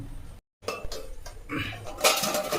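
A metal pot lid clanks and clinks against the rim of a pan holding greens, several short sharp metallic knocks close by, with a brief silent gap early on.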